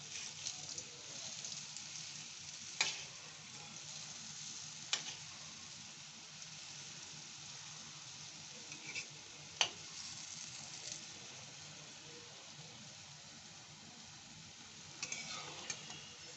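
Sweet lentil-dough fritters fry in oil until golden, a faint, even bubbling hiss that runs steadily with a few scattered clicks and pops and no speech.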